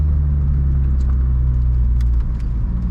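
A tuned VW Jetta GLI MK7 35th Anniversary pulling in a parking lot, a strong steady low engine drone with deep rumbling harmonics, loud and close, with faint clicks on top.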